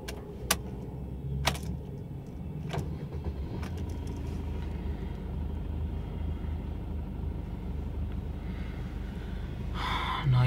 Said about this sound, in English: Okay, let's turn on the car now.